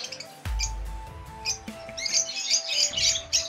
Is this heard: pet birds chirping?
yes